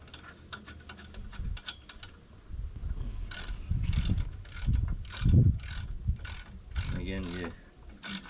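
A ratchet wrench tightens bolts on a CargoMaster e-bike rack, giving quick bursts of clicking and metallic ratcheting at close range, with some handling clatter between the bursts.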